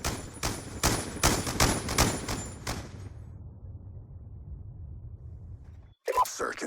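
Rapid gunshots fired at a shield during a Search and Destroy round of a shooter video game, a dense burst of repeated loud reports for about three seconds, then a low rumble and a brief sharp noise near the end.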